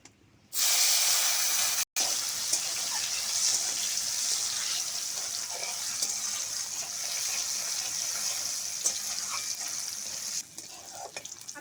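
Chopped tomato dropped into hot tempering oil for a Bengali rohu fish tel jhal sets off a loud, steady sizzling hiss that carries on close and continuous for several seconds, with faint stirring clinks.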